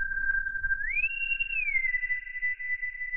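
A ring-modulated synth tone in Bitwig whistles as a clean, pure pitch that holds steady, glides upward, then slides back down and settles into a sustained note, faint and isolated with no talk.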